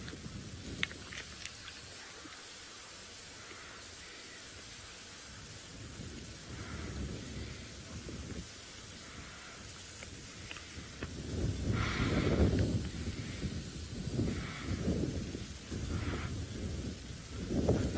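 Thunder rolls low and heavy during a safari drive, the rumbles building and growing louder in the second half, with a steady rain-like hiss throughout.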